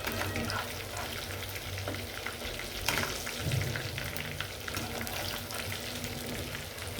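Chicken balls frying in hot oil for a home-style chicken ball curry, a steady dense sizzle throughout with occasional stirring scrapes and a brief louder clatter near the middle.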